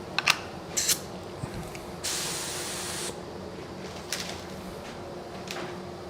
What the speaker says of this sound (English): I'm going to turn on the air, just spray this